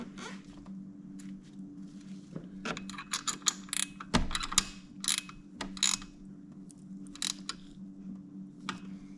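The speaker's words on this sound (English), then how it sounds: "Let's go ahead and tighten that bolt back up." Ratchet wrench tightening a bolt on the front forks of a 1988-2000 Honda Goldwing GL1500, irregular bursts of quick clicking strokes close up in a quiet workshop.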